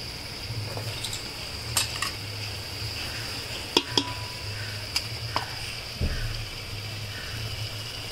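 A spoon stirs misal curry in a pot over a wood-fired stove, with soft scraping and a few sharp metallic clinks against the rim over a constant background hiss.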